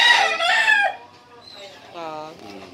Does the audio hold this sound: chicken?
yes